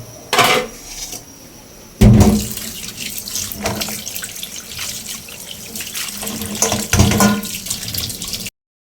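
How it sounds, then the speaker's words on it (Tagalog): Tap water running into a sink while oyster shells are cleaned, a close, steady splashing stream with short bursts and clunks of shells being handled. "Linisan natin mga kablag oh."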